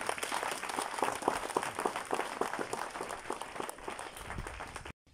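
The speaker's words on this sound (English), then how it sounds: "You can clap for pastors here." Audience applause in a hall at a scholarship ceremony in Bungoma, dense steady clapping for pastors that carries on evenly for about five seconds and then stops abruptly.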